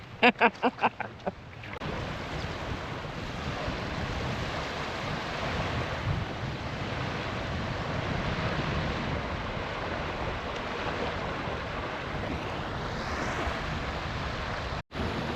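Steady surf and wind at White Beach on the Tasman Peninsula, Tasmania, a continuous broadband wash of waves with gusty microphone wind noise and a few knocks at the very start.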